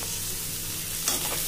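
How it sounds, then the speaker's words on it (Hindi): Pieces of jackfruit frying in hot oil in a home kitchen, a steady close sizzle with a brief stirring scrape near the end. "इसको थोड़ी देर हम लोग तेल में अच्छे से तल लेंगे, फ्राई कर लेंगे"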